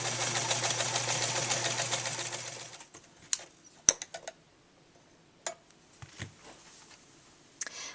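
Sewing machine stitching diamond-shaped quilt pieces for a pillow top, a steady fast whirring run for nearly three seconds, then stopping, followed by scattered clicks and light handling taps.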